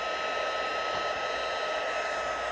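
Heat embossing tool for rubber stamping heats up with a steady, loud, close blowing whir like a small hair dryer, constant and unbroken throughout with no talking.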